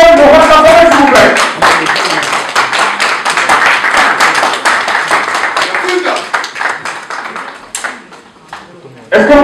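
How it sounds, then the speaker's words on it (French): An audience at a Werrason press conference claps, individual claps pattering steadily for several seconds while a voice talks loudly over them, then tapering off. "Sur un tonnerre d'applaudissements, Monsieur Wolason de Rwanda, s'il vous plaît."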